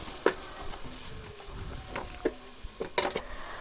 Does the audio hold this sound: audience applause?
no